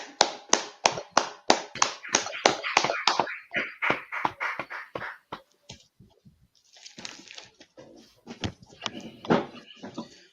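Hands clap in a sharp, evenly spaced series of loud, close strikes that gradually quicken and fade. After a short lull, softer, scattered claps return, mixed with murmuring voices.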